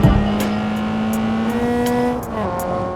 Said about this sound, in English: let's just take my car